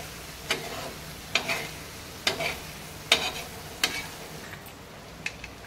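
Masala for street-style masala pav being stirred in a pan with coriander, a steady sizzle with evenly spaced sharp spatula knocks against the metal, close and fairly loud.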